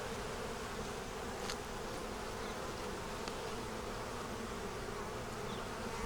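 Honey bees buzz steadily around an open hive frame holding a yellow queen, eggs, brood and stores, a dense continuous hum with no voices.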